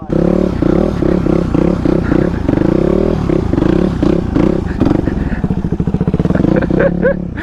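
Dirt bike ridden close by, its engine hammering in loud rhythmic pulses that shift pace and rise into a faster rev near the end, with faint clatter over it.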